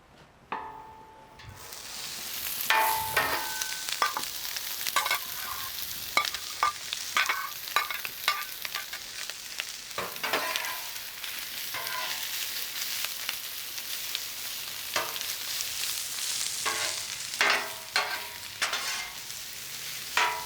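Sausage and onions sizzle on a hot Blackstone griddle, a steady loud frying hiss broken by repeated scraping and stirring clatters from a spatula, with no talking.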